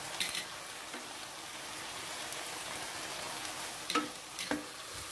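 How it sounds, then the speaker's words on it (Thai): Sliced red, green and yellow chilies and green peppercorns stir-fried in a hot pan for a pork curry-paste dish give a steady, close sizzle, with a few sharp clinks and scrapes from stirring and no talking. "ผัดให้พริกและพริกไทยอ่อนเนี่ยโดนความร้อนให้สุกทั่วๆกันเลยนะครับ"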